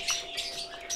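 A large, heavy female bird in a breeding aviary gives a few short, sharp squawks close by, spaced unevenly over a quiet background.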